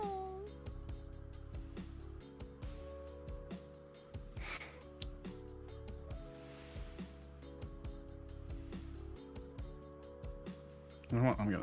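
A pet cat meows during a casual art-studio livestream chat, a few short mews rising over steady background music and talk, with a louder burst near the end.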